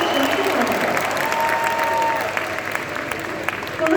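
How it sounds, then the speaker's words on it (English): An audience at a keynote talk breaks into loud, sustained applause that fills the hall, then gradually thins toward the end with scattered claps. "Let's give him a big round of applause."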